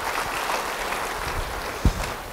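Church congregation clapping during a sermon, a moderate, continuous wash of applause with one brief low thump near the end.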